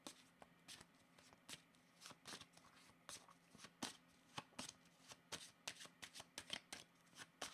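Tarot cards shuffled by hand close up, with quiet repeated riffling snaps and slides in an irregular rhythm, faint and soft throughout.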